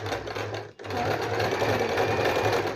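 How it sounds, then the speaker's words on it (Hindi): An Usha Janome Allure sewing machine runs backward in reverse stitch with a steady, close whirring hum, stopping for a split second before resuming its continuous buzz. "ओके, तो अभी मैं इसको सिलती हूँ।"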